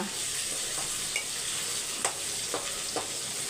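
Chicken fries in a pan with a steady, moderately loud oil sizzle, marked by a few short crackling pops near the end.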